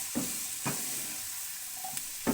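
Cabbage frying on a low flame in a pan for chicken fried rice, with a steady soft sizzle broken by a few brief stirring scrapes.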